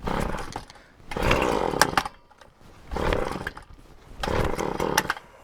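A small gas engine in a garden is cranked three times in bursts of roughly a second, sputtering and briefly catching with a loud, rough roar, with quieter gaps between pulls.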